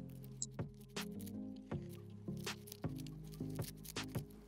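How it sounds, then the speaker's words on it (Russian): A knife finely chops plant material for a homemade cucumber fertilizer, giving a steady series of crisp, close cuts about every half second over background music. "Нарезаю и размельчаю как можно мельче."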